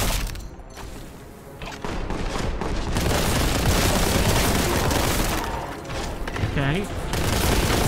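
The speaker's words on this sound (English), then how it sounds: "Now we got a stronger bolt gun." Stronger bolt gun in Warhammer 40,000: Boltgun blasting in a dense, loud barrage of rapid shots and booms, nearly continuous over clanking game noise.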